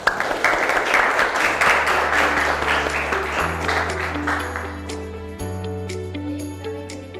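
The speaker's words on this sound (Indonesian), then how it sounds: "sebelumnya diberi aplaus dulu" A classroom group applauds after a class presentation on the role of commercial banks, a burst of clapping that gradually thins and fades as a sustained tone rises beneath it.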